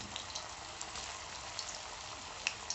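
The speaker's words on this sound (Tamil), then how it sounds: "இது 2 வாட்டி நம்ம பொரிக்க போகிறோம்" Potato slices for french fries sizzle steadily in hot oil in a home kitchen, a soft even hiss with small pops and crackles scattered throughout, fairly quiet and with no talking.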